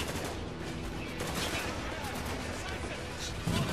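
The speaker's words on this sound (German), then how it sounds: "Die schießen alle auf dich." Gunfire in the co-op shooter Spec Ops: The Line comes as dense, steady bursts of rifle shots and crackle under the game's noise, with players talking over it.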